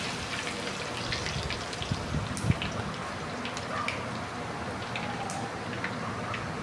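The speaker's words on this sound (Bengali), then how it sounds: "এবার রসুনগুলো দিয়ে একটু ভালো করে ভেজে নিচ্ছি।" Garlic frying in a pan with turmeric in a home kitchen, a soft, steady sizzle and crackle with scattered small pops, fairly quiet and continuous throughout.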